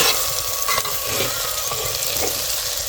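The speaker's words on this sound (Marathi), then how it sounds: "असं परतू परतू घ्यायचं कांदा मिरची हे सगळं वाटून त्याच्यात टाकायचं" Onion and chili sizzling and frying in a pan for brinjal bharit, a steady close hiss with occasional stirring scrapes, no voices.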